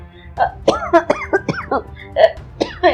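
A person coughs repeatedly in a domestic drama scene, a string of harsh close bursts with brief throat-clearing sounds and no words spoken.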